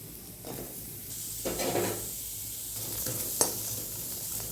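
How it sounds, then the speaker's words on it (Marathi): Chopped onion sizzles in oil in a hot kadhai, a soft steady frying hiss broken by louder swells as it is stirred and scraped, with one sharp clink of the utensil. "कढई गरम झालेली आहे ह्याच्यामध्येच घालूया कांदा पहिले कांदा फ्राय करून घेऊया"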